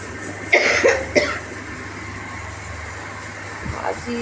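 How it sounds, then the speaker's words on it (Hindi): Two or three short, harsh coughs close by in quick succession, followed by a steady low hum and a faint rustle near the end. "खांसी इतनी तेज हो रही है"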